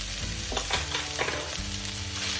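Kimchi stew with belly pork and tofu stirred in a pot, a steady close sizzle with soft scraping strokes of the spoon, no talking.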